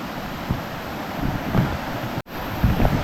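A jungle river flows, producing a steady broadband rush of water with wind-like hiss, close and continuous, with a brief dropout near the end.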